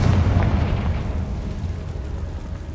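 A Confringo blast from a fire spell in Hogwarts Legacy goes off as a loud, close explosive boom. A dense low rumble follows it and fades slowly over a few seconds, with no voices.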